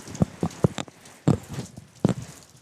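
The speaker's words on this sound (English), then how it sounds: "I'm up, getting rained on." Rain falls outdoors on a deck, with heavy drops striking close by as loud, irregular taps and thuds over a soft wet wash.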